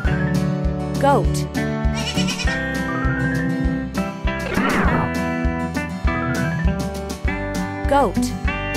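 Cartoon goat bleats break through a bouncy children's farm song, appearing a few times across the clip over steady backing music.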